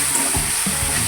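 Onion and tomato frying with curry leaves in hot oil in a pan, a close, continuous sizzle with a few soft stirring scrapes.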